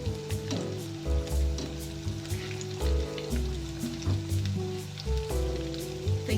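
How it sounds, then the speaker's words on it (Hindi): Chicken pieces for KFC-style zinger bites deep fry in oil over a medium flame, a continuous crackling sizzle with a low bubbling rumble that swells and eases in waves, close and alone. "तो ये देखिए चिकन फ्राई होना स्टार्ट हो चुके हैं।"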